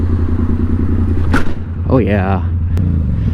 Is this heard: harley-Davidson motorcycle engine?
yes